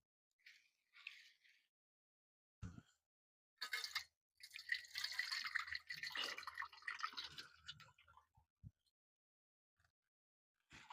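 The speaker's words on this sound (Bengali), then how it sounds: "এবার কড়ার মধ্যে দিয়ে দিচ্ছি জল" Water splashes and drips into a kadai as it is filled for cooking moong dal, a few short bursts then a longer busy pour, fairly faint, with no talk.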